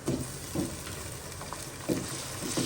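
Cumin seeds and garlic-ginger paste fry in a pan for dal gosht, a steady sizzle broken by a few scraping strokes of a spoon against the pan at a close distance.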